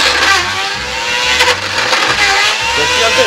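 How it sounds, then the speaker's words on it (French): Parkside wood lathe with its motor slipping and struggling under load, giving a loud, continuous whirring drone with wavering pitch, close up and without talking. "Et le peu de résistance qu'il rencontre, le moteur il patine direct."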